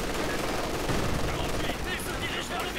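Machine gun in a World War II strategy game set in the Ardennes, rattling in a dense, continuous burst of rapid shots over battle noise, with a commentator speaking underneath.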